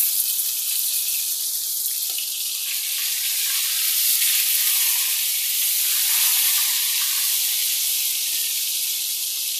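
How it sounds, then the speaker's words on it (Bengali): Three pieces of fish fry in a pan over medium heat, giving a steady, close, hissing sizzle that holds evenly throughout with no voices. "এখন মিডিয়াম আছে মাছগুলো ভেজে নিব"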